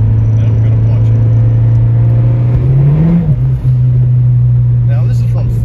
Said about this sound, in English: Right now, I'm in fifth gear, and I'm gonna punch it.